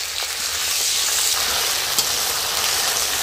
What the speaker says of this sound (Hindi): टमाटो पेस्ट पकई ना